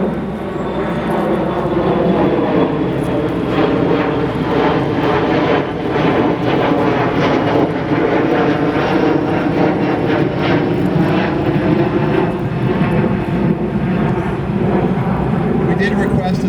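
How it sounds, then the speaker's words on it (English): A fixed-wing airplane passes overhead during an outdoor quarantine flag ceremony, its engine a loud continuous roar that holds steady throughout and drowns the surroundings, with a voice faintly audible beneath it. "We will have to pause for the airplane"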